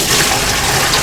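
Water dumped out of a sous vide container holding brisket, a brief loud continuous gush of pouring liquid close by.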